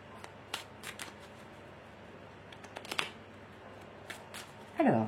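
Oracle cards are shuffled in the hands with scattered soft riffles and snaps, then a louder burst of flicking near the end, all close by with faint voice in the background.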